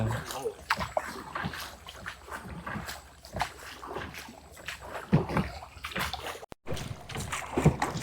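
A paddle boat moving through mangrove forest water at Pichavaram gives soft irregular splashes and dips of paddles, close by, under a voice talking throughout.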